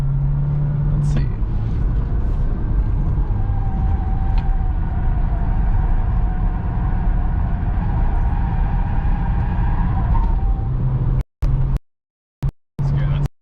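Cabin noise of a 2021 Volkswagen Jetta cruising on a concrete highway: a steady, broad road and tire roar with a low engine hum, continuous and fairly loud, before cutting out in abrupt gaps near the end.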